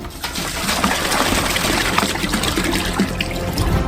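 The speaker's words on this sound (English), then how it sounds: "Open the water and pour it out." Water splashes and trickles steadily as it is poured from jugs into a saucepan, a close, continuous liquid rush with no talking.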